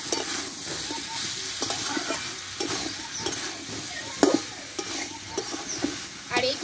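Vegetarian pumpkin curry seasoned with panch phoron is stir-fried in a pan, sizzling steadily while a spatula scrapes and taps in irregular bursts, with a few sharper knocks toward the end.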